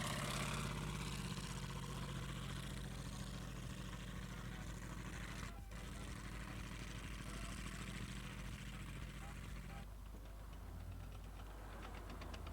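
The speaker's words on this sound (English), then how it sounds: "God, they're so extremely loud, those radial engines." M4 Sherman tanks with radial engines run at a WWII anniversary event. The heavy engine drone is loud and continuous, with a throbbing low rumble and a brief drop partway through.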